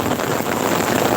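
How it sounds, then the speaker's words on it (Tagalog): Heavy rain pours outdoors at the Pasig River esplanade, a loud, dense, continuous wash of downpour and wind close around the microphone, with no voices. "Ang lakas ng ulan guys."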